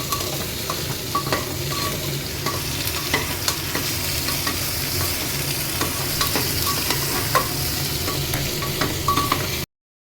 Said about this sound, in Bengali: একটুখানি সবজিটা ভাজছি তেলের মধ্যে।